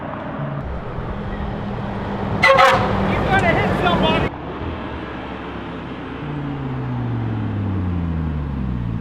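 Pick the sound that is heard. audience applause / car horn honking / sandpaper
car horn honking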